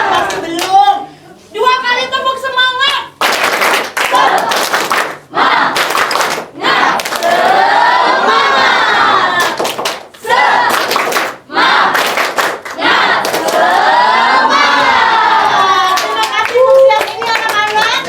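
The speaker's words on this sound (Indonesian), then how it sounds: "2 kali tepuk semangat." Indoor group at an Indonesian resilience training session doing a spirit clap cheer twice over, with patterned group clapping and shouted chants alternating with a leader's talk, loud and close throughout.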